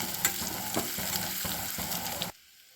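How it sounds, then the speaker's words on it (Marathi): Vegetables and spices, including cumin powder, sizzle and crackle in hot oil with occasional stirring scrapes, loud and close, before the sound drops away abruptly at the end. "हे सर्व साहित्य व्यवस्थित परतून घ्यायचं"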